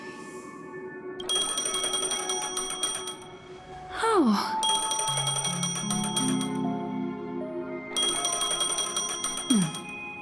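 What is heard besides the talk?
phone ringing in video game Honkai: Star Rail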